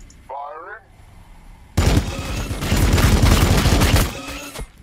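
Dense volley of gunfire from Warhammer 40K BattleSector against Tyranids, erupting after a short spoken bit and holding loud for about two seconds of overlapping shots before cutting off.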